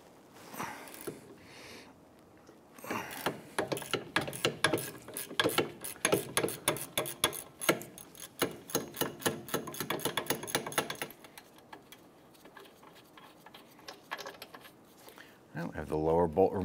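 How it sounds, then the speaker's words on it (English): A hand ratchet loosening the 15 mm caliper bracket bolts on the rear brake of a 2005-2007 Ford Five Hundred, rapid close clicking in quick bursts with brief pauses, then a short metallic rattle at the end. "I'm gonna get a ratchet on there."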